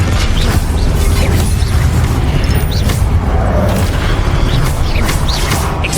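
Spellcasting and combat in Hogwarts Legacy, with dense rumbling booms, clanks and mechanical crashes running loudly and continuously, overlapping bursts without a clear pause.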